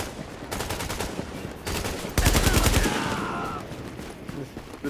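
Gunfire in Tom Clancy's The Division: bursts of rapid automatic fire in quick rattling volleys, with a louder heavy burst midway, then a fading tail and scattered background noise.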